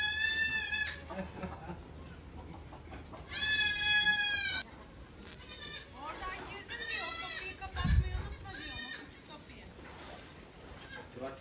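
Saanen dairy goats bleat on a farm in Çanakkale, several loud, wavering calls spaced across the stretch, some overlapping, mixed with quieter farmyard sounds and a brief low thump.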